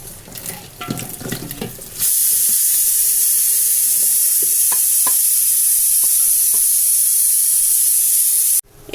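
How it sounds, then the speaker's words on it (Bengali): Jackfruit pieces dropped into a large pot of hot oil set off a loud, steady hiss and sizzle that runs for several seconds after a brief quieter stretch of handling noises, with no talking. "প্রথমে আমি কাঁঠালটা দিয়ে দিচ্ছি।"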